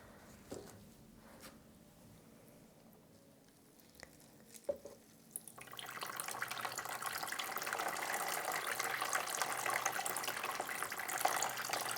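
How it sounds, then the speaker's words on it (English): Rainwater is poured to water a potted plant; after scattered small clicks and taps, a steady splashing pour begins midway and continues close and fairly loud to the end, with no talk. "I'm using rainwater, which is what I use to water all my plants."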